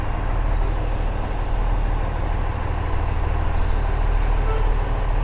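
Truck pulling a trailer rumbles in a steady, loud, low diesel drone as it maneuvers, with no talk over it.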